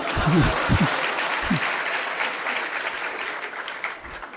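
An audience at a Jain religious discourse at Tilwara Ghat, Jabalpur, breaks into steady, sustained applause that fills the whole stretch, with a voice briefly heard at the start.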